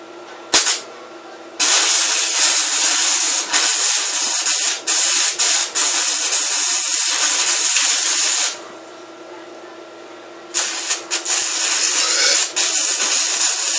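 Close, loud electric welding joining a Malay knife tang to a metal tube, steady crackling hiss in long bursts broken by short pauses and sharp pops, with no voices.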